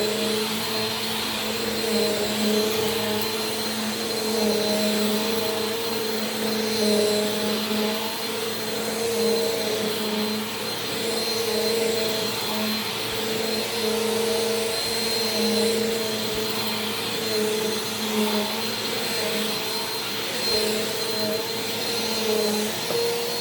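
A Bissell PowerForce Compact Turbo vacuum cleaner drones loud and close in a steady whine as it cleans dirty carpet full of Siberian Husky hair, its tone barely shifting throughout with no voices.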